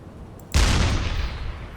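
A U-boat's deck gun fires at a ship in a naval video game, one sudden heavy blast with a deep low-end thump that rolls into a long, noisy rumbling tail.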